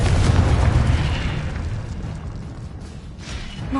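A Confringo fire spell bursts in the Hogwarts Legacy video game, a loud, close booming blast that rumbles and slowly decays over a few seconds.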